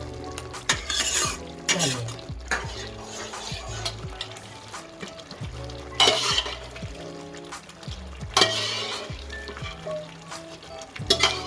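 Loud sizzling of chickpeas added to hot oily masala in a pan, with repeated scraping stirs of a spoon, coming in uneven bursts over a constant crackle.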